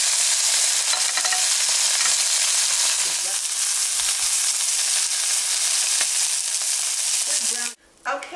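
Flank steak rouladen browning in a hot pan, a loud, steady sizzle with crackling spatters that holds nearly throughout before dropping away briefly near the end.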